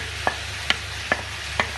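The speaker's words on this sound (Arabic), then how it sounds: "هنحط البصل اول" Onions frying in oil in a pan with chicken for an Egyptian-style kabsa, a continuous sizzle broken by four evenly spaced sharp clinks or scrapes of stirring, no talking.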